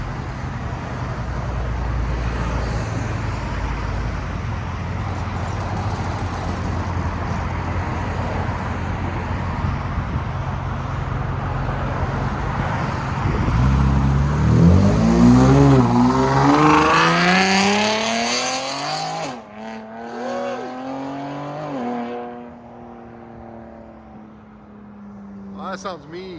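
A 2024 Ford Ranger Raptor with a 3.0L twin-turbo V6 and loop pipe exhaust pulls away amid traffic, the engine rising through climbing revs and gear changes before easing off into the distance.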